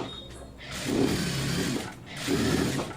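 A sewing machine stitches a folded blouse piece in two bursts of rapid mechanical whirring and clatter, close by, separated by a brief pause, with lighter clicks of handling before it starts.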